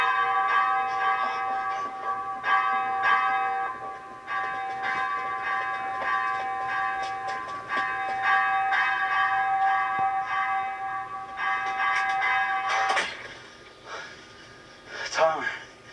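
A church bell from a Walking Dead episode rings steadily with a sustained metallic tone, heard under someone talking over it, before fading near the end.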